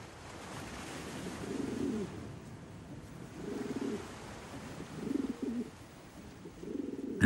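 Wild rock pigeons on the rocky Sardinian coast give soft, low cooing calls in several separate bouts, set against a constant wash of sea and surf.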